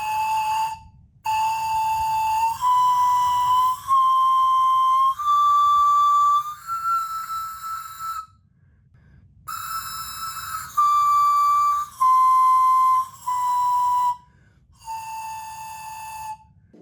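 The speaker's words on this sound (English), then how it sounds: "Here's how the panpipe sounds on all 5 notes." A Viking-style panpipe modeled on a 10th-century instrument plays five separate breathy whistled notes. The notes climb step by step, then fall back down, each held for about a second, with short gaps between them, loud and close.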